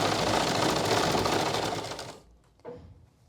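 A sewing machine runs steadily as it stitches a salwar, a loud, close, continuous mechanical whir for about two seconds before it stops, followed by a brief faint clack.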